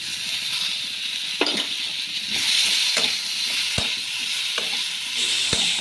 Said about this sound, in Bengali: আদার গন্ধটা যাওয়া পর্যন্ত এটা ভালো করে ভাজতে হবে